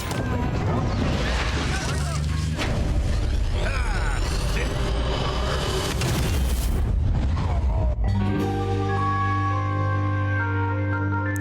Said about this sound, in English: if you get caught and don't deactivate the nuke inside of it, Fia just fucking detonates it